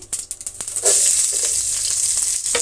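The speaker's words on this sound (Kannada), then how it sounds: "ಇಷ್ಟೂ ಫ್ರೈ ಆಗಲಿ" Sliced onions, mustard seeds and curry leaves fry in hot oil. A few quick crackles and stirs give way to a loud, continuous, close sizzle, with no speech.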